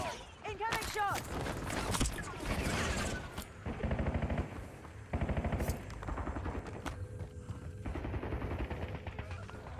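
Gunfire in a Warzone battle royale match, with loud machine-gun bursts and separate sharp shots in clusters across the clip, interrupted by short pauses, with background sounds of the match.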